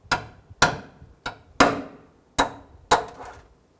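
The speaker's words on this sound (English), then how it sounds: "we'll go ahead and use our punch and pop this one out" A punch knocks the plastic rivet core out of a fog light trim panel on a 2004-2009 Dodge Durango, giving six sharp, close metallic taps at uneven intervals with brief decays between.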